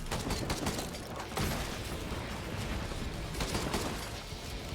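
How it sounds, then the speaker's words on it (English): Big explosions in the Risk of Rain 2 video game, a dense run of bursts and crackling blasts with a sharp onset partway through, fairly quiet in the mix. "Those are big explosions."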